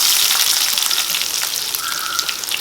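Onion frying in hot oil with crackled mustard seeds and fenugreek for poondu kulambu, a loud bright sizzle with scattered pops that eases slightly, a brief faint tone near the end, no talking.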